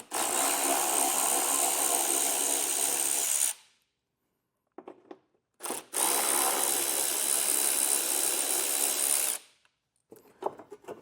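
A power tool spins out 10mm bolts from the bumper of a 2021 Jeep Wrangler in two loud, sustained whirring bursts broken by a silent gap, followed by short clicks and rattles as the bolts come free.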